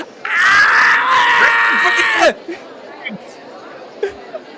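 Loud, sustained screaming bursts out during a screening of the 1959 horror film The Tingler, a high wailing scream lasting about two seconds before dropping away to scattered quieter voices.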